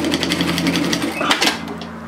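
Sewing machine tack stitching a pleat down through the seam allowance, a loud, steady rapid chatter of the needle running continuously and close up.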